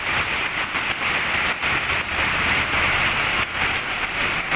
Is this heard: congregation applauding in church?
no